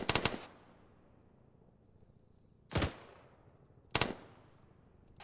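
Machine guns fire during an Airborne Division field training exercise: a short opening burst, then two separate sharp reports a second apart, each echoing away outdoors at a moderate distance.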